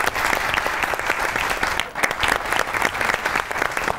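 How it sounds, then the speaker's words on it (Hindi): Loud, sustained applause from a studio audience at a comedy talk show, dense clapping filling the whole stretch with a brief dip midway. "दोनों के लिए ताली बजाइए पहले तो"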